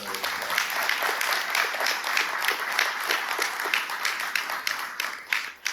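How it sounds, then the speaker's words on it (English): Audience at a Torrance Chamber of Commerce forum for treasurer and mayoral candidates gives a round of applause, many hands clapping steadily and fairly close, tapering toward the end. "Please give another round of applause to our mayoral"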